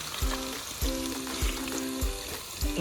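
Onion frying in a pan at a rural night-time chicken party, a steady sizzle broken by regular dull knocks of stirring, about five across the stretch, close and fairly loud with no talk.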